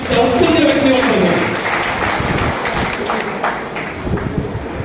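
Crowd applause at a Shiv Sena birthday gathering, a loud dense wash of clapping that carries on steadily, with a voice speaking over it.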